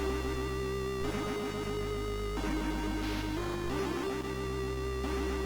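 Bright, buzzy chiptune music from Tomb Raider on the Game Boy Color plays steadily, with warbling synth arpeggios over a constant drone, in the style of the Commodore 64 SID chip.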